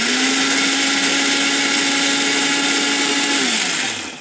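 Electric blender or mixer grinder grinding spices into a paste, a loud steady whirring motor hum that winds down at the end, no voices.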